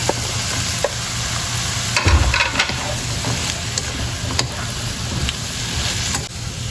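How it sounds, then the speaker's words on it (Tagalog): Carrots stirred in a cooking pan, a steady sizzle and frying hiss running throughout with a few louder scrapes of the spoon near the start, close and loud, with no talking. "nahaluin lang po ulit natin. Lalagay na rin po natin itong ating carrots."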